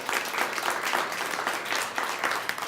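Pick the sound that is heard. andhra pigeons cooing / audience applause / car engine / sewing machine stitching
audience applause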